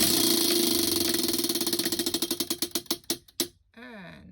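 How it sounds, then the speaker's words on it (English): A sewing machine stitching through journal pages, its motor whirring steadily and then slowing into distinct spaced thumps of the needle before stopping, followed by a brief squeaky whine. "And we are sewing."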